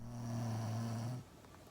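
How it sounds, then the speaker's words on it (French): A single long snore rumbles with a low buzzing drone, close and fairly loud, then stops abruptly. "votre conjointe ou votre conjoint ronfle"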